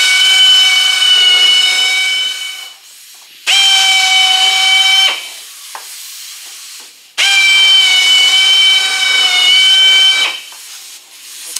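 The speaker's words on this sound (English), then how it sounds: "I'm going to go ahead and bevel that out." A small beveling tool deburring drilled holes in body panels of a 1934 Ford coupe, making loud, close, shrill squealing scrapes in three long passes of a few seconds each, with faint clicks in between.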